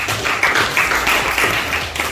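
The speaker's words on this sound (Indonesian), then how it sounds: "Tepuk tangan untuk kelompok 2" Classroom applause for a student group after a science experiment on Archimedes' principle, a steady wash of many hands clapping close by, with no talking.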